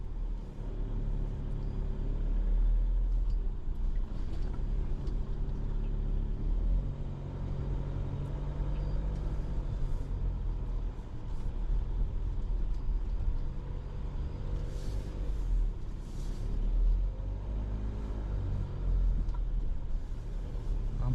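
An LDV Trail Rider ute's engine drones low and steady from inside the cab on the Henty River track, a continuous rumble with slight rises and falls and faint rattles.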